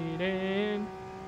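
A car engine in Forza Motorsport gives a brief steady tonal rev that climbs slightly and then holds, moderately loud and alone for about a second.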